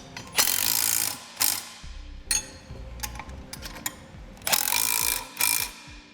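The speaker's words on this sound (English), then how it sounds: "And then we'll snug it down with a 13mm wrench and socket." A bolt with a nylon lock nut tightened using a 13mm wrench and ratcheting socket while mounting a winch fairlead on a 2006 Yamaha Kodiak ATV, close, loud ratchet clicking in several bursts separated by short pauses.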